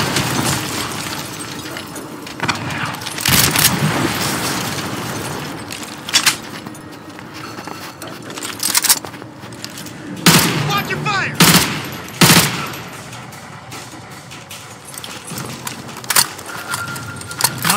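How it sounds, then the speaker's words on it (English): Gunfire and explosions from the video game Call of Duty Modern Warfare 2 come as loud bursts of automatic fire and sharp blasts, dense and continuous with heavy booms spaced through the battle. "Those explosions are going to attract a lot of attention."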